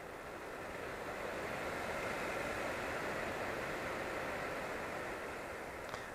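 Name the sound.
Mooka air purifier running on low setting, white noise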